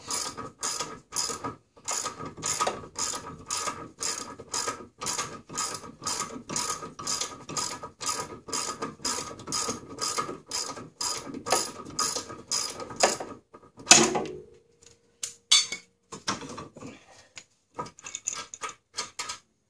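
A ratchet wrench undoes the brake caliper bolts during a front rotor and brake pad replacement, producing a long run of close, loud, evenly spaced clicks, a brief pause and clank, then more irregular ratcheting.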